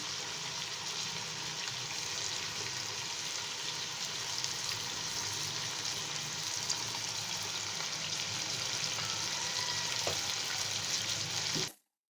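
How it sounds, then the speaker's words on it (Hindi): Chopped ginger sizzles steadily in hot oil for chicken pulao, a dense, even frying hiss with no talk that holds close and loud, then cuts off abruptly near the end. "हम फ्राई करेंगे ताकि ये अच्छी तरह से फ्राई हो जाए और लाइट गोल्डन कलर में चला जाए।"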